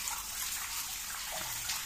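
Water pumped from a newly drilled borehole well gushes and splashes in a steady, hissing stream, close up and fairly quiet, with no voices.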